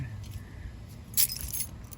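Keys jangling on a ring, a brief bright rattle in the middle over a low rumbling background, with a few softer clinks after.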